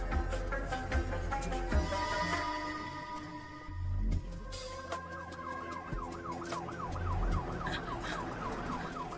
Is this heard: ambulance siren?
yes